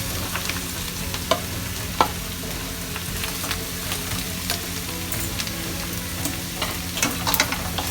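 Boiled potatoes stirred into a frying onion-tomato masala for Vidarbha-style aloo bonda, with a steady low sizzle in the pan and occasional sharp scrapes and knocks of a spoon, close and continuous, no voices.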